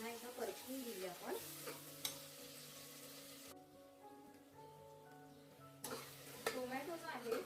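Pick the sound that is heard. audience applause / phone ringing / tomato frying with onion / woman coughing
tomato frying with onion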